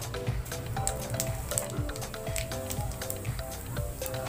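Cumin seeds tempering in hot oil for a rohu fish curry make a steady sizzle crowded with small crackling pops and ticks, close and continuous throughout, with no speech.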